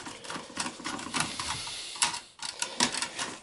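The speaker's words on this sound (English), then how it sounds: "So use a Phillips screwdriver, remove the, there'll be 4 screws." A Phillips screwdriver works heatsink screws out of a Dell Optiplex 790 desktop, making a run of close, quick metallic clicks and ticks in irregular bursts with brief pauses between them.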